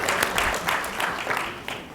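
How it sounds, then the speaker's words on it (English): Light, scattered applause from a modest conference audience, a thin patter of clapping that stays fairly steady without building. "Tepid applause."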